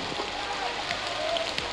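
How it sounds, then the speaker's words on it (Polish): Rain falls on a battlefield in a steady, fairly loud wash of hiss that continues without a break, with a voice faintly present underneath. "Deszcz! Kurzawa upadnie."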